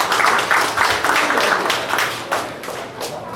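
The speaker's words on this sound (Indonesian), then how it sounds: "Tepuk tangan." Applause from an audience at an Indonesian community gathering in Jeddah marking Indonesia's 76th independence day, a steady dense patter of clapping lasting a few seconds, loud and continuous without speech.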